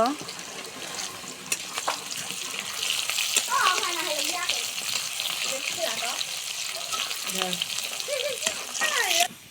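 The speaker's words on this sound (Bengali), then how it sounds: "আমরা আগে সুন্দর করে এই তেলানিটা করে নেব" Chopped garlic, onion and whole raw cumin fry in oil for a Bengali pumpkin bhaji, giving a steady sizzling hiss broken by stirring scrapes, with a voice talking over it now and then.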